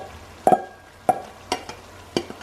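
Cabbage for Cantonese-style pan-fried chow mein frying in a pan, with four distinct scraping stir strokes spaced about half a second apart over a low, steady sizzle, close and moderately loud.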